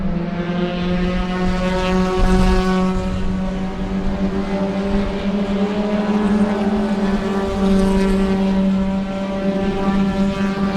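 A pack of Spec Racer Ford race cars roars past during a two-hour enduro at Sebring, their engines blending into a loud, sustained, buzzing drone with steady harmonics and no voices.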